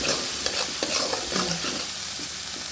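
Coriander powder, cumin, garlic and ginger are stirred and fried in a wok for khichuri: continuous close sizzling with repeated scraping and rattling strokes of the spatula and no talking.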